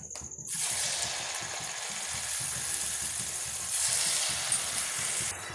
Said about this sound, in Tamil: இப்போ இது எல்லாமே நல்லா வெந்து வரட்டுங்க வெந்து வந்த பிறகு இந்த சலசலப்பெல்லாம் அடங்கின பிறகு நம்ம எடுத்துடலாம்